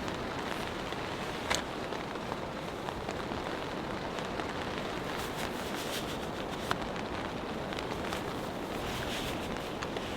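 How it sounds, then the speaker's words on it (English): Light rain falls outdoors in cold, windy wilderness at about 47 to 48 degrees, a steady soft patter on surfaces with scattered sharper drops, close and even throughout with no voices. "It is raining out here just a little bit."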